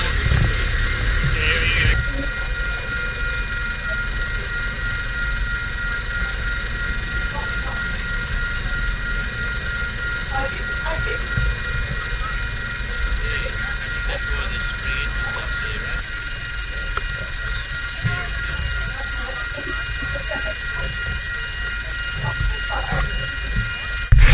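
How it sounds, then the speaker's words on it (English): A roughly 2-kilometre transcontinental freight train rumbling past a level crossing at close range, a steady heavy roar with sustained horn-like tones lingering across the whole pass. "Starting with a transcontinental freight train that must have been 2 kilometres long."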